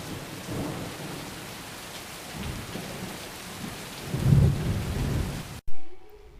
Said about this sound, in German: Regen, grau überall. Der Wind so stark